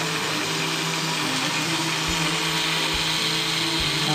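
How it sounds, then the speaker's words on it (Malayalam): A mixer grinder blends chopped carrots into a drink with a loud, steady, continuous motor whine and a few faint knocks underneath, close and alone with no talking. "ഇനി നമുക്ക് മിക്സി"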